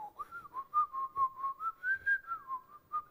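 A person whistles a short wavering melody of quick, distinct notes, up close and clear, with no one talking over it.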